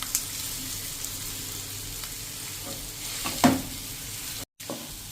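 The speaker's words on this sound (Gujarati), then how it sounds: "આ રીતે હવે આપણે મસાલા સાથે જ આ બટેટાનું મિશ્રણ મિક્સ કરી લેશું।" Boiled potatoes stirred with spices in a frying pan, a continuous soft sizzle with a couple of scraping stirs and a clink near the middle, briefly cutting out near the end.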